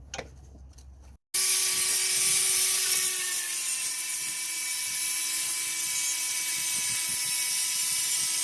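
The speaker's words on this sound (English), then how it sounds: "just gonna grind it a little bit more" A grinder works on the anti-roll bar linkage of a Mitsubishi Outlander, starting abruptly after a short quiet moment and then running steadily with a loud, high whine and a constant pitched tone, with no voices.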